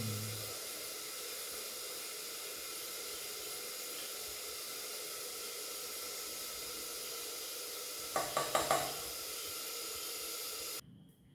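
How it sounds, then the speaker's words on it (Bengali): Bitter gourd fries in a pan of hot oil, giving a steady loud hiss and sizzle close by, broken near the end by a few quick clatters before it cuts off. "আর পটল ভাজা নামিয়ে এখন আবার উচ্ছে ভাজাটা বসিয়েছি"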